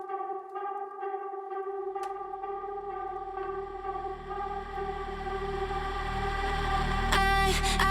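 A vintage amp effect run into a reverb in a studio song sketch: sustained synth-like chord tones ring with a washy, echoing tail, swelling steadily louder and ending in a bright, shimmering burst of repeats.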